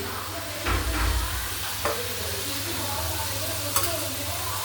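A gongura prawn curry bubbles and sizzles steadily in a pan, a close, continuous frying hiss broken by a few brief stirring clinks.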